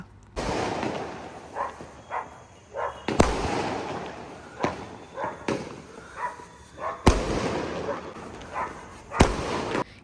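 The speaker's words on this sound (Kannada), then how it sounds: "ಗಣೇಶ್ ವಿಸರ್ಜನ್ದು ಜೋರಾಗಿ ಪಟಾಕಿ ಶಬ್ದ ಕೇಳಿತು" Firecrackers burst repeatedly during a Ganesh immersion procession, some sharp loud cracks and others duller booms, at irregular intervals over a noisy outdoor background.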